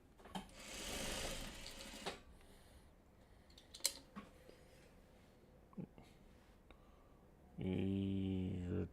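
A home sewing machine stitches a Four Winds quilt block in bursts, running loudly for a couple of seconds early, then falling quiet amid small clicks and handling, before another firm stretch of stitching near the end.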